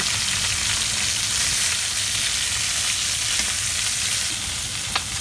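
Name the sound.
poultry frying and browning in a pan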